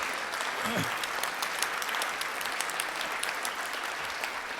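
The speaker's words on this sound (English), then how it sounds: "please stand, and we can give them a round of applause for a great activity last week" Members of a Rotary club meeting give a round of applause, a sustained, even clatter of many hands in a room, with a faint voice briefly underneath at the start.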